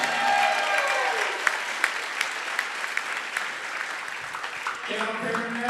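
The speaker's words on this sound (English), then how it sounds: "Let's have another round of applause for Jake Wilkinson" Spectators at a high school volleyball senior recognition applaud a graduating player with dense, steady clapping. A voice speaks briefly over the start and again near the end.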